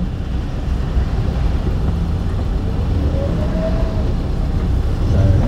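Manual-transmission car engine holding a steady low hum as the driver presses the accelerator during a clutch practice drive, a continuous even drone with a slight pitch rise near the end and no talking.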